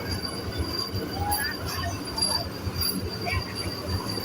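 A Vande Bharat Express train rumbles into Varanasi railway station with metallic wheel squeals and clatter, with faint voices in the background.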